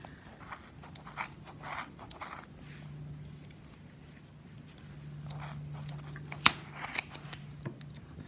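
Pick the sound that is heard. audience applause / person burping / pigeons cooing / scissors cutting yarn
scissors cutting yarn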